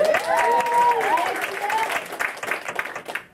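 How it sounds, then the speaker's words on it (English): Audience applause greets a tribute to the people who made Greenville the cool place it is, a short burst of clapping that starts full and thins out over a few seconds, with a voice briefly audible over it. "So a little applause."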